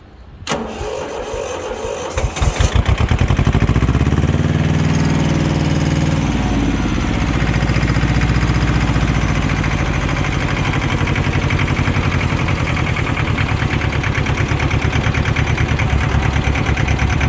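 A small ISEKI TS1610 2WD Japanese mini tractor engine starts and settles into a steady, loud idle close by, its throbbing rhythm running continuously with no talking over it.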